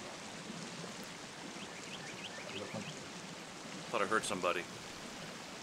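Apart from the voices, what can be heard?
waterfall gurgling in video game Sons of the Forest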